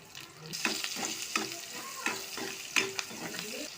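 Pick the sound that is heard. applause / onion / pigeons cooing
onion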